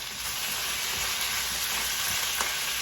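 Minced garlic sizzles steadily in a hot pan, a continuous bright frying hiss with faint crackles, moderately close and with no talking.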